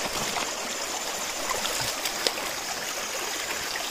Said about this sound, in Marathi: हा पहा ओढा.